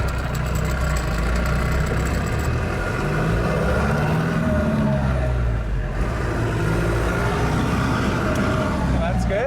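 A Ford Bronco with a turbo diesel engine runs steadily, a loud, close, low throbbing drone with slight shifts in revs, while people talk over it.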